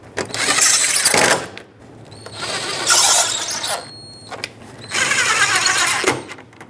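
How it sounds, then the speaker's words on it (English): Power driver snugging Torx screws along the top of a 2010-2017 Chevrolet Equinox front bumper cover, three loud whirring bursts separated by short pauses, close up. "And then the Torx screws at the top. Snug them up."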